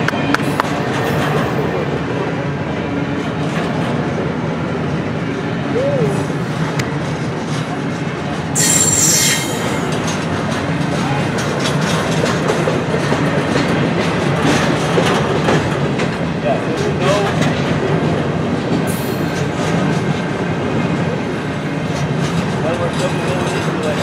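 The end of a Norfolk Southern freight train rolls over a switch, with loud steady wheel rumble, squealing wheels and clicking rail joints. A brief high screech rises twice, and a voice speaks over the passing cars.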